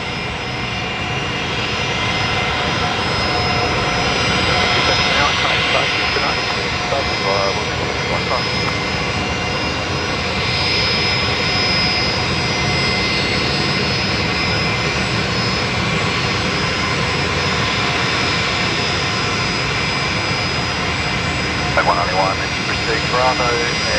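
A jet with Rolls-Royce Tay engines taxis in toward its bay at Brisbane Airport, a steady broad engine roar and whine filling the scene, with faint radio chatter and voices underneath.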